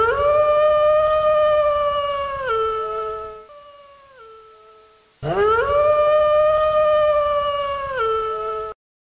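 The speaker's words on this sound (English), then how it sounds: "Wolf." A wolf gives two long, loud, mournful howls, each rising then sliding down in pitch, separated by a softer falling tone and a brief gap.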